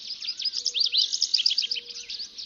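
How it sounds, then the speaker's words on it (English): Several birds sing at dawn in a canyon, overlapping bright chirps and trills forming a busy chorus, with a softer whistled call repeating beneath; moderately near and alone, no voices. "The birds lower down join the chorus as the light reaches deeper into the canyon."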